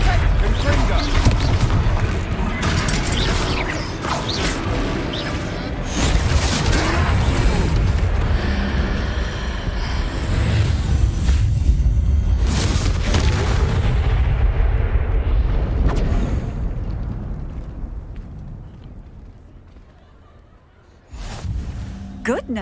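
Confringo explosive spell blasts during a troll fight in Hogwarts Legacy, loud booming explosions and rumbling impacts layered with voices and game effects, fading toward a quieter moment before a final burst.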